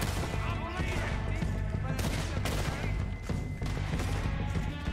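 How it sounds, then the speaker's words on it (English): Rapid bursts of gunfire crackle in Red Dead Redemption 2, with dense overlapping shots and sharp cracks over a droning game backdrop, while a voice talks faintly underneath. "He's shooting over there."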